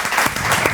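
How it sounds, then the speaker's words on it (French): A brief burst of close, dense clapping from a small live-show audience, loud and continuous for under a second. "on applaudit"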